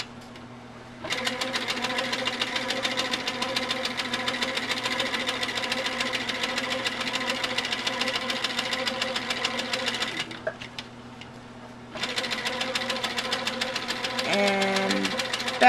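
A sewing machine stitches slowly and steadily around a quilting template, its rapid needle rhythm running loud and close for about nine seconds, pausing briefly while the quilter repositions, then resuming.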